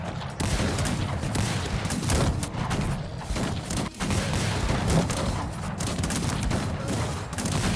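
Dense musket volleys crackle in the strategy video game Cossacks 3, a continuous loud barrage of overlapping shots and thumps from a large battle with no breaks.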